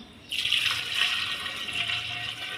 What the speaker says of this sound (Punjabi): ਹੁਣ ਆਪਾਂ ਇਹਦੇ ਵਿੱਚ ਪਾਣੀ ਪਾਵਾਂਗੇ